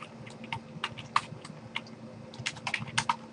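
A remote vCenter server name being typed on a computer keyboard, with a near, fairly quiet patter of crisp key clicks in uneven bursts over a faint steady hum.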